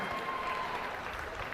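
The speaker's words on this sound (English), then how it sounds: "let's have a huge round of applause for our helpers back here showing the animals." Crowd applause rings out steadily for the helpers showing pigs at a youth swine show, a dense continuous clapping that holds at even volume throughout.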